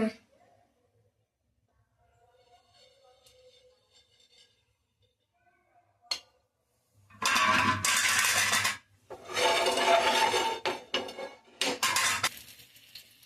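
Oil is spread across a hot dosa tava, giving loud broad hissing and scraping bursts after a quiet start, with a few light metallic clicks before the sizzle takes over.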